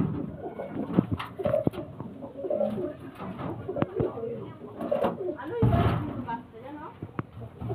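Pigeons coo close by in a domestic loft, low rolling calls mixed with scattered knocks and rustling handling noises, while someone talks over them for most of the time.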